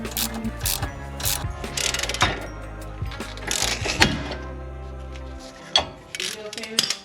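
A ball joint separator tool is ratcheted tight on a 2010 Toyota Camry tie rod end, with loud repeated mechanical ratchet clicks, then a sharp pop as the joint breaks loose, while someone talks over it.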